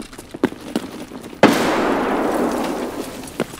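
A grenade blast in the video game Escape from Tarkov: one sudden loud explosion with a long rumbling decay, preceded by a few faint thuds and clicks, with no voices.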